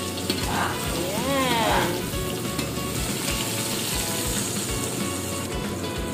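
Crab (alimasag) frying in hot oil, a loud continuous sizzle and crackle with bubbling spatter, close up. A short remark from a voice breaks in near the start.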